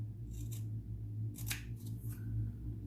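Scissors snip through finger tape in two or three short, close cutting bursts over a steady low hum, with no talking.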